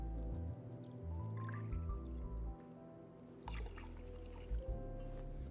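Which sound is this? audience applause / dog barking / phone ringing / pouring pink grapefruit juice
pouring pink grapefruit juice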